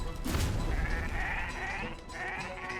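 Sheep bleating in a speedrun video game, a couple of wavering, nasal bleats over a busy bed of game sound effects and low rumble, loud and close with no talk.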